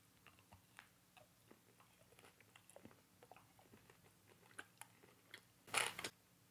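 A crunchy candy bar is bitten and chewed up close, giving a run of small crisp crackles and clicks followed by a louder crunching burst near the end.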